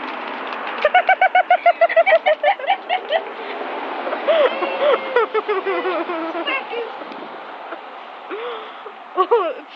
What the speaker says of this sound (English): It's a spastic pigeon.